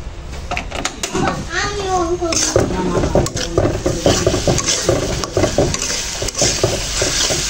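A ginger and garlic mixture is stirred in a pan in a busy home kitchen, with scraping and clinking strokes over a light sizzle while adults and children talk loudly throughout.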